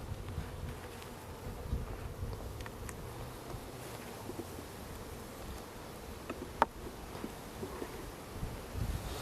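Steady low buzzing from many honey bees at a hive fills the clip, with faint wind noise and a brief click near the end.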